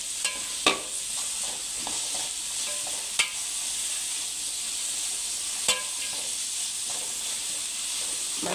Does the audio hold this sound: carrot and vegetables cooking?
yes